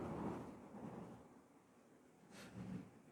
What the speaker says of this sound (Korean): 방금 엄청나게 시끄럽게 천둥이 쳤는데